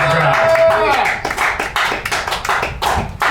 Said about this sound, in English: Nice round of applause for Ted Jones.